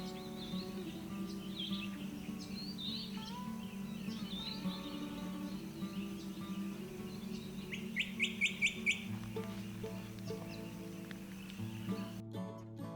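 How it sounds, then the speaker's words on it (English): Birds call at dawn along a tree-lined rural road, with varied chirps and whistles at moderate distance. A quick run of bright rising notes stands out midway, all over a faint breeze-like background. "the air is filled with bird calls"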